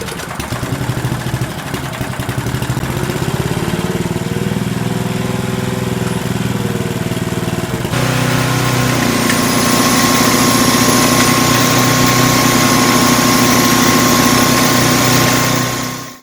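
An old portable generator that had sat for years fires up with starting fluid and settles into a loud, steady running drone, its engine note rising and becoming brighter partway through, with a faint whistling tone in the later stretch.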